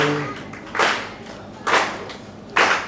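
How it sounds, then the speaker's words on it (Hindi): A poetry recital audience at a kavi sammelan in Lucknow gives three separate bursts of clapping, each short and sharp, spaced about a second apart, with a brief vocal note just before the first. "और आप तालियां बजा रहे हैं, बढ़िया बात है"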